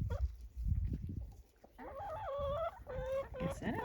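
Chickens cluck in a coop made from an old horse trailer, with a few soft low calls followed by several bright, drawn-out clucking phrases close by.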